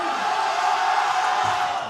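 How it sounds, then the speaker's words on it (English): A crowd at a powerlifting meet, the CANPL Nationals, cheers and shouts loudly and continuously, a dense roar of voices swelling behind a lifter. "Crowd is getting behind him now."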